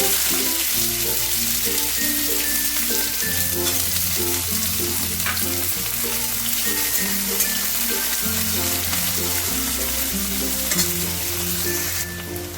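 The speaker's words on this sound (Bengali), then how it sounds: "পেঁয়াজটাকে অল্প একটু ভেজে নিলাম" Chopped onions frying in a pan with panch phoron and a pinch of asafoetida: a steady, loud sizzle throughout, with faint stirring scrapes and soft melodic background music underneath.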